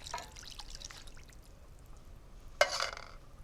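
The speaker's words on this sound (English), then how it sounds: "I always swill out the tin with water, get every last drop." Tomato-tinted water swilled from a tin splashes into a pan, with a few soft trickles and drips early on and a sharper splosh near the end against a quiet kitchen background.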